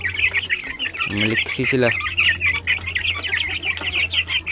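A group of 33-day-old gamefowl chicks peep constantly in rapid, high chirps close by, while someone speaks briefly in the middle.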